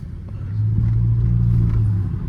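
A car fitted with an aftermarket exhaust burbles with a deep, steady low rumble that swells in the middle and fades slightly at the end, heard from nearby.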